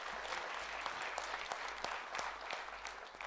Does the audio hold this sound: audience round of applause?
yes